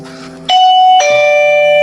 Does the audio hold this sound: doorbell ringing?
yes